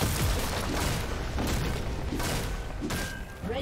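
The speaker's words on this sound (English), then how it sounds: "Red team's turret has been destroyed." A turret is destroyed in League of Legends, heard as a series of heavy booms and crumbling bursts over busy game noise, fairly loud and close.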